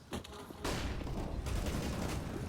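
Automatic AK rifle fire in a Counter-Strike pro match, a few light shots then a sustained loud burst of rapid gunfire lasting about two seconds, close and dense with brief voice traces beneath.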